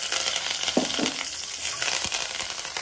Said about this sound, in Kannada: ಈಗ ಕರಿಬೇವು ಹಾಕ್ಕೊಳ್ತೀನಿ ನಾನು.